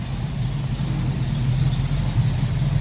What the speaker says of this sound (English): Ah, this car sounds nice.